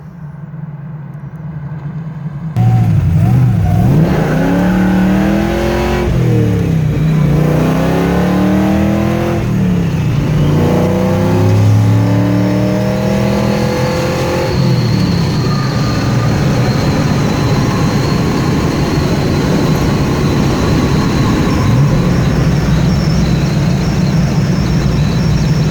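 A 1966 Chevelle Pro Touring with a 615 HP engine driving, loud and close, the engine revving through several rising sweeps before settling into a steady cruising drone.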